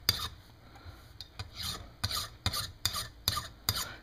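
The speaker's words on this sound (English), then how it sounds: "when I get down to where I am filing across the vise itself, just like that, file in a couple different directions to make sure" A hand file rasps across metal on a steam engine eccentric rod held in a vise, in a series of close, even strokes that fall into a regular rhythm after a few uneven starts.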